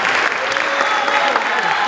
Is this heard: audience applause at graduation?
yes